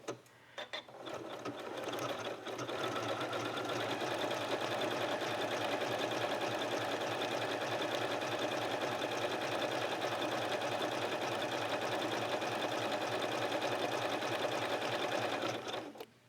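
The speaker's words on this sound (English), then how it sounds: "So you just continue sewing down both sides of each of the vines" Sewing machine running a continuous decorative stitch along the edges of appliqué vines on a quilt, with a fast, even mechanical whir and rattle kept up steadily and close by, with no talk.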